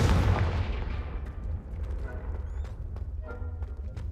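A Confringo blasting spell going off in a wizarding video game: a loud, boomy explosion at the start that rolls off into a long rumbling decay, with smaller crackling bursts and thuds through the tail.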